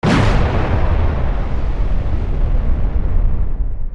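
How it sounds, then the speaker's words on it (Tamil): A huge fireball explosion over Siberia, about 300 feet wide, opens with a sharp, powerful blast and then rolls into a long, loud, deep rumbling roar that slowly fades away. "ஒரு பெரிய நெருப்பு கோளமாக அது ஒரு மகா வெடிப்பாக வெடித்து சிதறியது."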